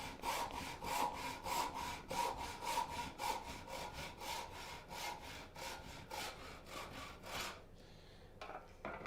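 A hand saw cuts half lap shoulders in Spanish cedar with quick, even back-and-forth strokes, close and crisp, about a dozen rasping passes before stopping near the end.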